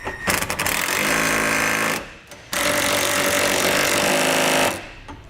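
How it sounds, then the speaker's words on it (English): Power tool with a 12mm socket tightening the bolts of a Curt Class 2 trailer hitch on a 2010 Toyota Venza, two loud rattling bursts of hammering drive separated by a short pause, then cutting off. "We can take that 12mm socket and tighten up the bolts all the way."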